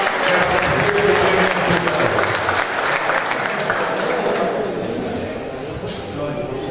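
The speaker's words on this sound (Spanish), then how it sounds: "Así que aplauso para Juventud Unida." Sustained applause from an audience at a youth football league awards ceremony, cheering the 2023 champion team Juventud Unida; dense, steady clapping that fades slightly toward the end, with some voices mixed in.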